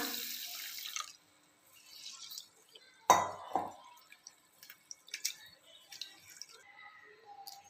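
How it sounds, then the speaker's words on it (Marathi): Rice grains being rinsed by hand in water, heard as a splashy wash at the start, a sharp sloshing burst midway, then scattered drips and light clinks of a vessel, close and with no talk. "आता आपण तांदूळ पा दोन ते तीन पाण्याने स्वच्छ धुवून घेऊया"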